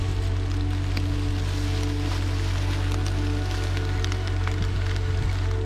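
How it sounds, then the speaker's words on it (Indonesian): Light drizzle on a mountain trail at Mount Sagara in Garut, West Java: a constant soft patter of drops on leaves and ground, with scattered close ticks over a loud steady low rumble. "Dan hujannya masih gerimis."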